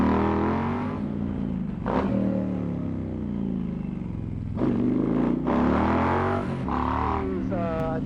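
An Indian Pursuit motorcycle fitted with a Toce exhaust idles with a steady, deep, throbbing note that swells briefly a few times as if blipped, heard up close.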